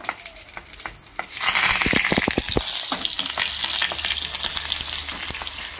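Banana-leaf-wrapped mochar paturi, a vegetarian banana-flower parcel, lowered one by one into hot oil, bursting into a loud close crackling fry after a few sharp knocks, then holding a dense steady sizzle.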